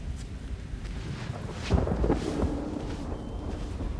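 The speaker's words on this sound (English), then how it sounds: "Never had an electrical storm before." Thunder from an electrical storm rumbles low and steadily, with a louder crack-like swell about midway before rolling on as a continuous distant-to-near roar with no voices.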